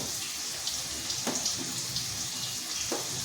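Pieces dropped into hot frying oil give a quiet, steady sizzle with a few soft pops and bubbling bursts scattered through it.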